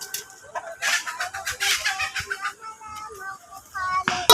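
Chickens cluck and squawk in a wooded rural yard, several birds calling in quick overlapping bursts close by while a person speaks at times.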